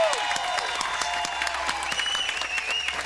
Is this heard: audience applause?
yes